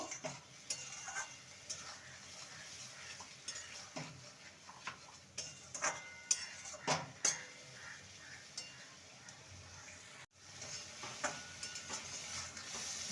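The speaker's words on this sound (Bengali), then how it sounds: "ভালো করে মশলাটাকে কষিয়ে নেব" Spice paste for a Bengali bean paturi, seasoned with a pinch of sugar, being stirred and fried in a pan. A utensil scrapes and taps the pan repeatedly over a soft sizzle, close but fairly quiet.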